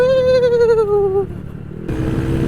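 A Honda Click scooter runs at speed on a long ride, its engine whine sliding downward before giving way to steady road and wind rush.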